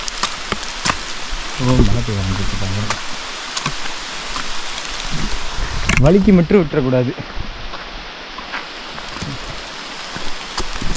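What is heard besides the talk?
heavy rain dripping through dense forest trees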